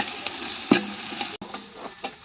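Vegetables being sautéed in Dalda vanaspati in a pan for veg biryani, with a moderate frying sizzle and a few stirring scrapes and knocks, one sharper clack early on and a brief dropout midway.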